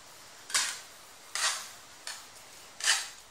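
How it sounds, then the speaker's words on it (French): A whisk fluffs cooked couscous scented with butter and broth on a plate, four separate light scraping, clinking strokes at an uneven pace, close and fairly quiet with no talking. "je l'ouvre avec le fouet comme ça, avant de la dresser dans l'assiette"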